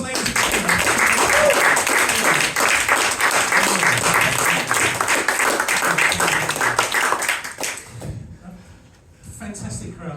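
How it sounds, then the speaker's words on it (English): Loud, sustained audience applause and clapping at a live hypnosis show at Colchester Fringe, filling most of the clip before tapering off, with someone speaking over it. "Give him a big round of applause, ladies and gentlemen."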